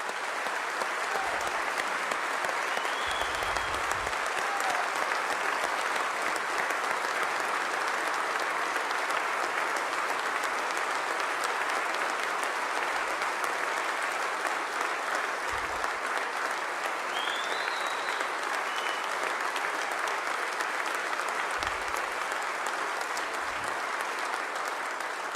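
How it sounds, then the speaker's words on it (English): Sustained applause from a large audience at the 2019 Oklahoma State of the State address honoring a guest, steady and dense clapping throughout with scattered low thumps. "Give her another round of applause."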